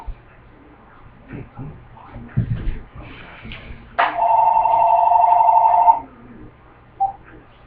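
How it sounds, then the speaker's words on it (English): A telephone rings once in a sustained two-second electronic trill, loud and close, after some shuffling and handling noises, with faint room sounds around it. "Let me get this phone."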